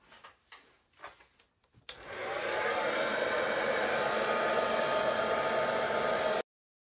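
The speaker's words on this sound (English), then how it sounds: "use a hairdryer just to blow that paint out so it's nice and even" A steady, loud whoosh from a hair dryer blowing acrylic paint across a canvas starts abruptly after a few quiet rustles and holds evenly for several seconds before cutting off.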